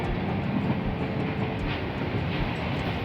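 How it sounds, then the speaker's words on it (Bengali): A passenger train running between Dhaka and Gazipur rumbles steadily toward the airport station, a loud continuous rolling roar heard from on board with no talking. "আর কিছুক্ষণের ভিতরেই আমাদের ট্রেন এয়ারপোর্ট স্টেশনে ঢুকে যাবে।"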